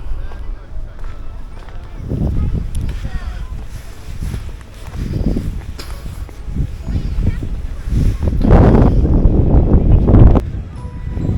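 Outdoor wind in the hills at Kanthalloor buffets the microphone in irregular gusty bursts, rising strongest near the end, while a person talks over it.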